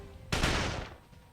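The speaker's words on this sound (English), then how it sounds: "I still hear gunshots all around us" A burst of gunfire in the Code: Realize video game rings out around the palace, one loud crack with a rattling tail that fades over about half a second, no voices.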